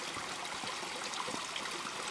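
Water poured onto the box of an FMS Chevy K10 RC pickup truck gives a steady splashing trickle and stream, close and continuous for a couple of seconds without talk.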